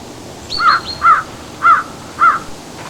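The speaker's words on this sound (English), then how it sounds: "This is where that raven comes to get" A raven caws four times at a slow, even pace, loud and near, over a quiet spring garden backdrop with aspens nearby and no talk.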